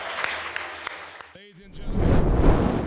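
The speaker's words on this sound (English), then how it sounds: "Let's give them a big round of applause." Applause from the audience at a youth council induction ceremony, starting after a brief spoken phrase and a few isolated claps, then swelling into steady clapping.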